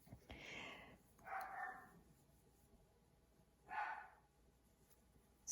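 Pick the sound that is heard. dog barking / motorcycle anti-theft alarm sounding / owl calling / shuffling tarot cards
dog barking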